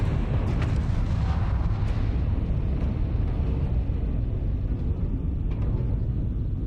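A missile detonation during a Starfield starship battle rolls out as a heavy, sustained low rumble, loud and continuous, with faint crackles scattered through it and no speech.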